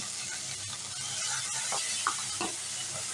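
Taro curry sizzles in a pan after spiced turmeric water is added, a steady soft frying hiss with occasional bubbling pops and light scraping from stirring.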